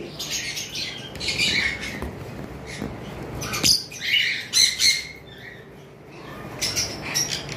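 Shrill cockatiel squawks and screeches come in scattered bursts, some close and loud, with quieter gaps between them.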